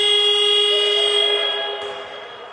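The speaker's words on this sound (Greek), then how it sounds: "Η κόρνα ήταν λάθος." A basketball game buzzer horn sounds at a Golden League amateur game, a loud, steady electronic tone held for a couple of seconds before it fades.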